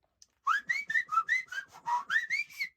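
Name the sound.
human whistling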